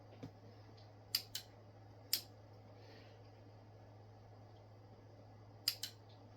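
Relay inside a Yaesu FT-101ZD Mk3 transceiver keying up, sharp close clicks in pairs, two near the start, one around the middle and two at the end, over a quiet low hum.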